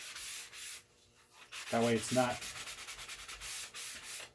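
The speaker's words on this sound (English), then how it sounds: "I'll just take one of these sanding sponges and just kind of round it" Steady scratchy rubbing of a sanding sponge rounding over a kitchen cabinet wood edge, back-and-forth strokes close up, with a brief spoken phrase cutting in midway.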